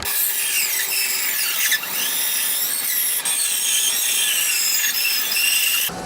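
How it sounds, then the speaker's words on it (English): A bandsaw cuts shapes from padauk wood with a continuous bright, high whine and a close, steady cutting hiss. Brief dips mark shifts in the feed, and the blade stops near the end. "we could cut these shapes out on the bandsaw"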